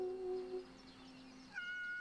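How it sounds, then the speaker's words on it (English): A cat meows in a video game, a short plaintive call followed by a second higher meow, both close and clear over a quiet background with no talking. "He always meows."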